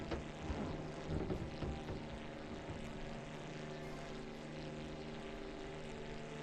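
A propeller airplane flies low over a barn, its engine drone loud and droning with a steady whine, slightly louder at first then holding even.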